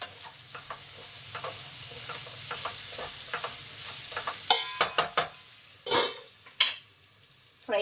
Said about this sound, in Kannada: ಫ್ರೆಂಡ್, ಇದೆಲ್ಲ ಸ್ವಲ್ಪ ಫ್ರೈ ಆಗಬೇಕು.